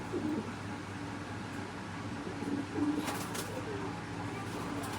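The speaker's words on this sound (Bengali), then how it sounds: "Silver colour pigeon." A silver-coloured pigeon coos softly several times, low throaty calls spaced out over a quiet background with a few light clicks.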